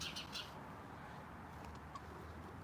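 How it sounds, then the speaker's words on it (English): Birds chirp outdoors on a cold, sunny day, a pair of quick calls at the start followed by faint scattered tweets farther off against quiet ambient noise. "We got some crazy ass birds over here."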